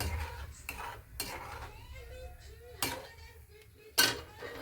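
Egg curry gravy being stirred in a pan, soft intermittent scraping and clinks of a utensil against the pan with a faint sizzle underneath, close and fairly quiet.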